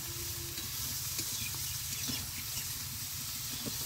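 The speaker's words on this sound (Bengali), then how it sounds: "তো ঢেঁড়সে হলুদ লবণ সবকিছু দিয়ে সুন্দর করে ভাজি করে নিচ্ছে" Okra fries with turmeric and salt in a pan, giving a soft, steady sizzle under a constant background hiss, with faint stirring clicks scattered throughout.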